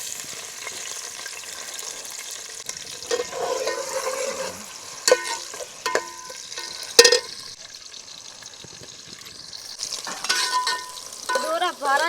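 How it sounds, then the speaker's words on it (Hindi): Finely chopped onions dropped into hot ghee in a village kitchen, a loud sizzle that surges and settles with stirring scrapes and clatters, growing busier toward the end; no speech. "घी हमारा गर्म हो गया तो इसमें डालेंगे बारीक कटी हुई प्याज।"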